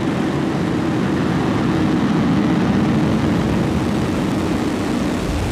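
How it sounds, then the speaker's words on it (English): SpaceX Falcon 9 rocket engines roaring at liftoff, a dense continuous low rumble holding steady and powerful throughout, with no talking. "Ignition and liftoff, Falcon 9."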